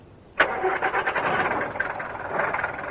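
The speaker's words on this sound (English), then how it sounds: "Engine." A car engine turns over and catches in a radio drama taxi scene, a sudden start followed by a steady running rumble that holds close and fairly loud for a few seconds, with no talking.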